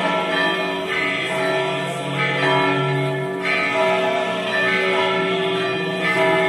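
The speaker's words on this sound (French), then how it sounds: "accompagnés par la volée des cloches" Church bells peal continuously and loudly during a litany procession in Zaječar, Serbia, layered ringing tones overlapping in a full, sustained clamor.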